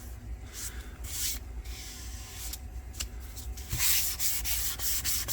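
Sandpaper works over a grain-filled northern ash guitar body, producing close rhythmic rasping strokes in bursts of varying length, growing louder and denser toward the end, with no talking.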